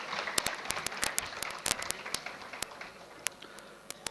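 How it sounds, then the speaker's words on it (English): Scattered applause from a university convocation audience for a medal recipient, sparse individual claps, fairly faint and thinning out over a few seconds. "Please give a big round of applause to Pranav."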